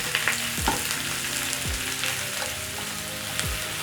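Onions fry in a pan with a steady, close sizzle, broken by a few scraping stirs of a utensil against the pan, with no talking.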